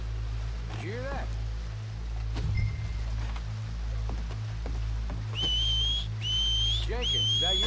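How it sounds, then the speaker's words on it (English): Rising-then-falling whistles from a figure in Red Dead Redemption 2 at Shady Belle, a few short calls then three clear repeated whistles near the end, over a steady low hum, light rain and brief muffled game voices. "Did someone whistle out here?"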